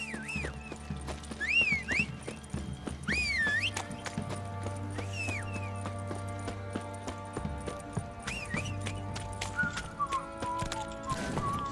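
Roach, a horse in a video game, trots with rhythmic clip-clop hooves and gives a couple of whinnies, with whistled tones and layered game sounds around it.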